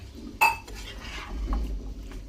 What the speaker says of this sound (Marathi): मी तुम्हाला भाजी दाखवते कशी परतून घेते बघा